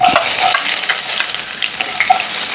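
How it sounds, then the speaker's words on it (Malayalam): Loud, steady sizzling of mustard seeds spluttering in hot oil, with scattered small pops and crackles, close up and continuous. "ഇതിനുള്ള എണ്ണ ഒഴിച്ചിട്ടുണ്ട് നമുക്കിനി കുറച്ച് കടു ഇട്ട് കൊടുക്കാം"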